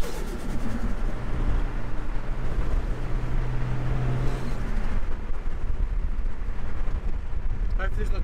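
Ford Falcon AU Turbo ute engine idling steadily after warming up on fuel that sat for a year and a half, a continuous low rumble close by that carries on through the clip.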